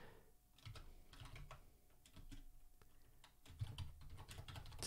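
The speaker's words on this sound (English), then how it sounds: "it is just quicker typing in the commands" Commands typed on a computer keyboard while setting up a Django project on Windows, a quick, uneven run of close, crisp key clicks with short pauses and no talking.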